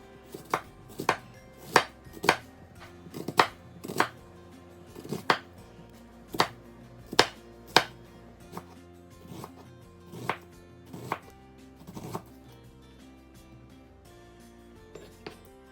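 A knife finely chopping onion on a cutting board makes sharp, distinct thuds in an uneven rhythm, about a dozen close, clear strikes that thin out toward the end, with no talking.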